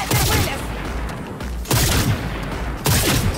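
Bursts of gunfire from a weapon in Cyberpunk 2077, three dense volleys of shots separated by short gaps, loud and close with a heavy low boom.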